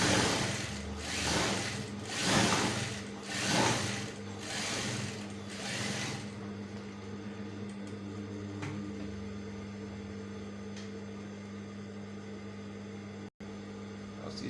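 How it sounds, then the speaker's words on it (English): Sewing machine stitching a shirt collar, a close rapid mechanical whir running in several short bursts with brief pauses, then settling into a steady motor hum with faint clicks. "So next I'm going to do is to sew in the middle of the end part of this and the black line I drew here"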